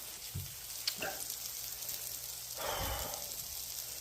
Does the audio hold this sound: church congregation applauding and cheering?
no